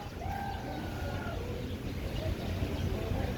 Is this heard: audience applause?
no